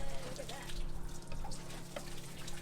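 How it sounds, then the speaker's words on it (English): Water gushes from a freshwater rinse-down fitting aboard a sailboat, a steady splashing flow heard close under soft background noise and faint voices. "Oh, there's a lot of water coming out there."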